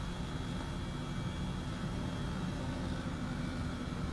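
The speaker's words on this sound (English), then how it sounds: "this is probably one of the best places to fly this helicopter" An Airbus H135 helicopter in Microsoft Flight Simulator cruises over mountains in Washington, giving a steady, even rotor and turbine drone that holds at constant loudness throughout, with no talking.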